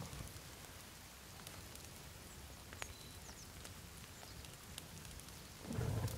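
Rain falls in a constant soft hiss in the video game The Forest, scattered ticks and drips on top, before a deeper thunder rumble swells in at the close.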